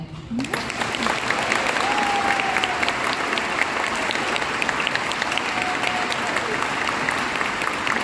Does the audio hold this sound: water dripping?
no